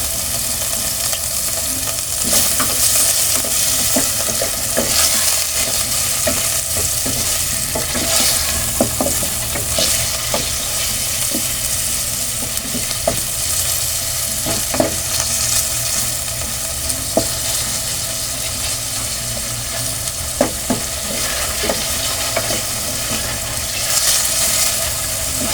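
Macaroni soup base sizzles steadily in a pot while a spoon stirs and scrapes through it after black pepper is added, a continuous close frying hiss broken by frequent clinks of the utensil.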